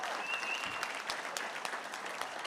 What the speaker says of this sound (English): Give them again a big round of applause.